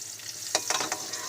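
Pointed gourds (potol) fry in mustard oil, a soft steady sizzle with a few brief scraping stirs near the middle, faint and close, with no talk.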